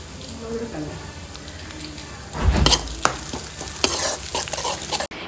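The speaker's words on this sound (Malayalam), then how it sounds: "ആദ്യം ചീഞ്ചട്ടി വെച്ചിട്ടുണ്ട്, അതിൽ കുറച്ച് പപ്പടം വറക്കണം." Papadam frying in hot oil in a pan, a busy sizzle with bursts of crackling and stirring scrapes growing louder midway, close and steady, with faint background activity.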